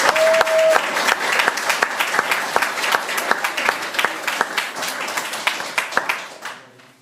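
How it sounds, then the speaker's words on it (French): An audience claps and applauds loudly at a French comedy performance, a dense continuous patter that holds steady for several seconds and then fades away at the end. "Vous n'avez pas osé m'applaudir."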